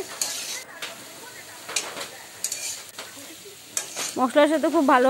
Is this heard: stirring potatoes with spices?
yes